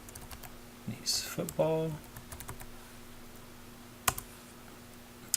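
Computer keyboard typing in short bursts of light clicks, fairly close and quiet, with a voice speaking briefly between the keystrokes.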